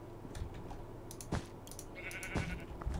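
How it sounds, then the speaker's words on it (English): Sheep bleating in the Minecraft video game, a couple of short faint bleats amid soft keyboard tapping and clicks. "I hear sheep."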